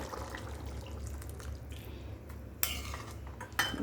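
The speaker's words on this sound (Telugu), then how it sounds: "ఇప్పుడు మనం చింతపండు పులుసు వేసుకుందామండి." Tamarind extract splashes into a pot of simmering mutton, with a faint wet trickle, light metallic clinks and two sharper knocks near the end, fairly quiet and without talk.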